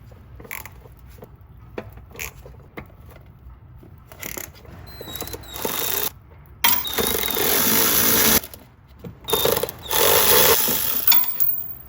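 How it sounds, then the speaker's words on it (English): Impact wrench removing shock absorber bolts on a BMW F30, bursts of loud rattling hammering that start and stop several times, longest runs near the end, with quieter clinks between. "gonna take an 18mm wrench on one side and an impact on the other"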